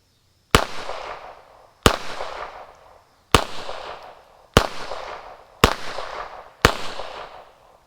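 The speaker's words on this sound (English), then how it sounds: "let's do a point of view what it's like to shoot a TEC9, jams and all" A KG99 TEC9-style pistol fires six sharp, loud shots, spaced about a second apart and each trailing off in a short echo, with no talking, before the gun jams.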